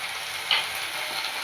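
Chopped tomatoes sizzle steadily in a hot pan while being stirred and mixed, with a brief scrape of the spoon partway through.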